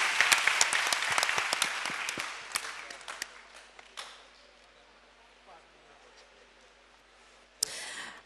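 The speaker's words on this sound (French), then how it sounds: "Monsieur le Président, on applaudit pour le Président" A hall audience at a Guinean debate event applauds the jury president, dense clapping for about three seconds that thins into scattered claps and room murmur, then a brief bump near the end.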